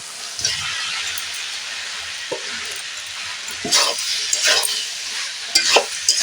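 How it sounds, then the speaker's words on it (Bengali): Potatoes stirred into a frying spice paste in a pan, a steady close sizzle under scraping stirring strokes that come in irregular bursts, louder clusters near the end. "এবারে আমি দিয়ে দেব এতে কষি রাখা আলুটা"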